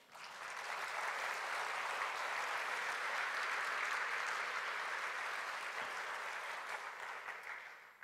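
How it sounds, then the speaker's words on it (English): A synod assembly audience gives sustained applause, a dense, steady wash of clapping that swells in, holds evenly for several seconds and fades slightly at the end. "So that's worth a round of applause."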